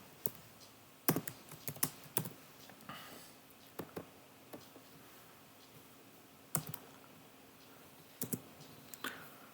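Code being typed on a computer keyboard, with scattered quick bursts of crisp close key clicks separated by short pauses, quiet and with no talking.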